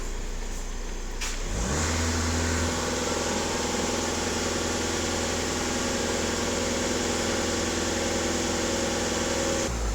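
A Skoda Octavia A7 engine runs at raised revs, a steady, loud mechanical drone that climbs quickly after a brief low idle and then holds constant, close by with no speech.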